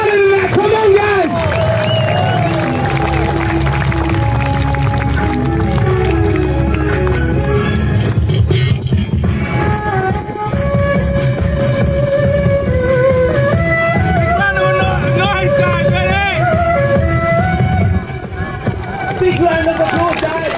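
Crowd at a car show during a Shaolin performance cheering and shouting continuously over loud music, a dense, steady roar of voices with whoops rising and falling throughout.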